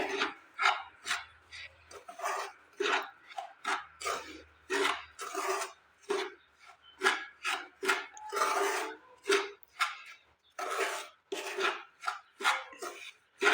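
Semolina and sugar are being mixed together, a dry gritty scraping and rubbing in quick repeated strokes with short pauses between bursts, close up.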